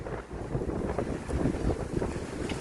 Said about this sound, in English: It's still windy though, so it's not bad.